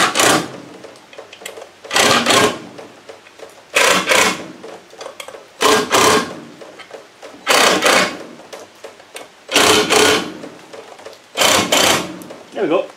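A power tool quickly runs down the bolts on a Land Rover 300Tdi oil pump in seven loud, rattling bursts of about a second each, with short pauses between them.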